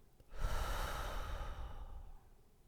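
A single slow, audible exhale during a guided breathing exercise, close and soft, rising suddenly then trailing off gradually over about two seconds.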